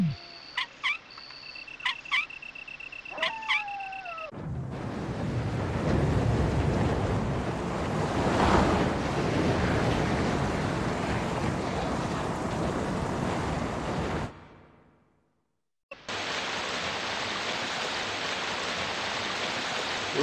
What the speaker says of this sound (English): Water in this game always look nice.